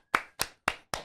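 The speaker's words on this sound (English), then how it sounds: "Let's give it a round of applause for the big man here." Four sharp, evenly spaced hand claps ring out in quick succession, close and crisp with short decays, a small round of applause on a comedy podcast.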